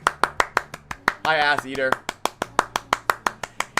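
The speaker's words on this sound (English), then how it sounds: "Round of applause for crits." One person claps by themselves in a slow, even rhythm, each clap sharp and close, pausing briefly while someone speaks, then carrying on at the same pace.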